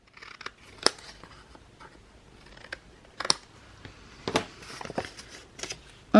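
Scissors snip the corners off a paper pocket for a handmade scrapbook album. Several crisp, separate cuts come about a second apart, close by and fairly quiet.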